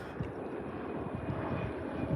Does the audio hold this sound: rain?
no